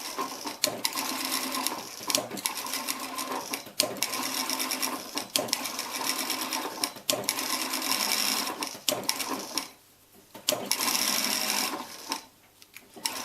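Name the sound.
sewing machine stitching a pillow cover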